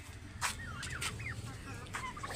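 Turkeys call to each other outdoors, giving faint short rising and falling yelps over a low background rumble, with several brief bursts of noise.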